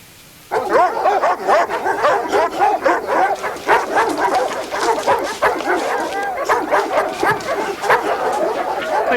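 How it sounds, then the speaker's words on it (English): A pet dog barks and yips in a rapid, excited string of close, loud barks that run almost without pause after a sudden start. "your assistant said this sounded like your dog"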